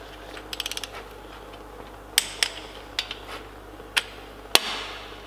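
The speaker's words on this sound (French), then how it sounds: "Je règle ma clé dynamo sur 20 Nm." A torque wrench set to 20 Nm tightens bolts on a Renault Megane RS engine rebuilt with forged pistons and connecting rods: a quick burst of ratchet clicks, then several sharp separate metallic clicks nearby.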